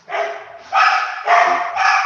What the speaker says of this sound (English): my dog is very, very old